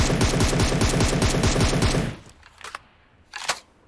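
Rapid automatic gunfire in a video game rattles loud and close for about two seconds, then cuts off, leaving a few faint scattered sounds and one sharp distant crack.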